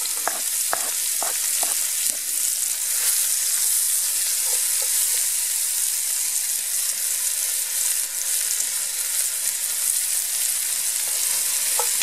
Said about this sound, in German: Jetzt tue ich ein paar Zwiebeln rein